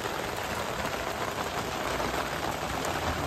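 Steady rain falls outdoors as a continuous, even hiss of drops, fairly close and moderately loud, with no voices and a faint background hum.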